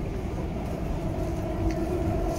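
Inside London's underground North Greenwich station, a train runs with a loud, continuous low rumble and a steady whine of motors echoing in the tunnel.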